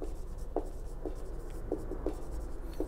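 Marker or chalk writing on a board during a maths lesson on linear inequalities, a string of short, soft scratchy strokes in an irregular rhythm, close and fairly quiet with no talking.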